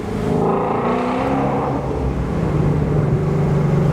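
A Nissan 370Z Nismo launches hard from first gear, its engine roaring loud and close as it revs rapidly upward with a deep rumbling exhaust, and no one speaks.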